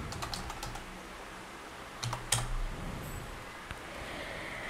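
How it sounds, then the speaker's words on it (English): Typing on a computer keyboard, with a quick burst of key clicks at the start and a few scattered taps later over a faint fan hum. "open your browser and type here temporary Edu email"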